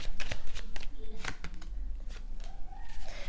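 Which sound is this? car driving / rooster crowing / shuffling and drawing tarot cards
shuffling and drawing tarot cards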